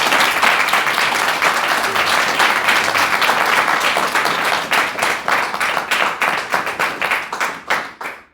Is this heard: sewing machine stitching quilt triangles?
no